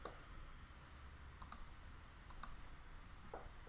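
Computer mouse clicks while drawing in Rhino, a few faint, sharp, isolated clicks over a low hum, close and quiet, with no talking.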